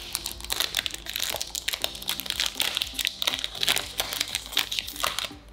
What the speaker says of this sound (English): someone opens a plastic like this and I hear this sound